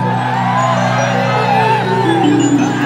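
Dense crowd noise at an outdoor live stage show in Bihar, a steady roar of many voices with shouts and whoops, loud and continuous, while someone talks over it.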